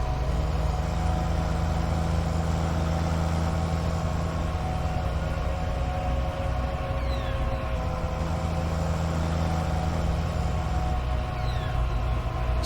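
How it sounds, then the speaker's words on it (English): A tractor engine in Farming Simulator 19 drones at a steady, loud idle with a constant low hum and whining tones for the whole stretch, without voices. "Tractor makes some of the strangest noises, engine-wise."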